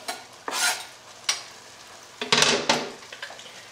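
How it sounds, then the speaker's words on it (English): Fresh tomatoes, basil and sauce stirred in a pan for a shrimp fettuccine sauce, with several scraping, sizzling bursts of a utensil working through the mix, close and fairly loud, separated by brief quieter gaps. "And I'm gonna mix everything together."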